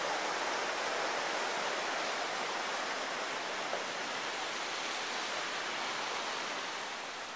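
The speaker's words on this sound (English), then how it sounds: "Just got to the White River." Flowing water of the White River near where it meets the ocean, a constant broadband rush heard up close and alone, steady in level with a slight fade toward the end.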